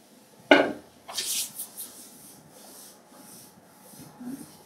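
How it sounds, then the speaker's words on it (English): Corn tipped into a pan of cooking onions, one sharp thump followed by a short crackling sizzle and a few clinks that fade away. "Now that I have my onions, I'm going to add our corn."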